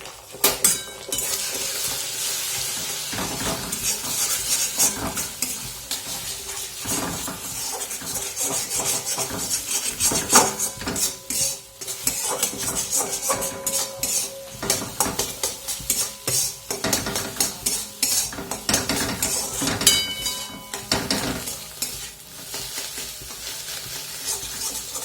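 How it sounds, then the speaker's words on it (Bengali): Eggs scrambled in a little oil in a wok, with a steady sizzle and repeated scraping and stirring of a utensil against the metal pan, continuous and close throughout. "তো চলো আগে ডিমটা ভুজিয়া করে নিই।"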